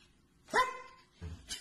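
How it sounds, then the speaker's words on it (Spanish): A dog barks twice, close and fairly loud: a sharp bark, a pause of about half a second, then a shorter second bark, against a quiet background. "Ladra duro."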